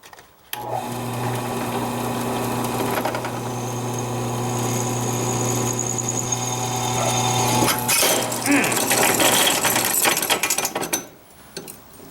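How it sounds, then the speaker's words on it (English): A power drill bores a bolt hole for a kayak track transducer mount, running as a loud, steady motor whine for about ten seconds before stopping. "But I got the hole drilled."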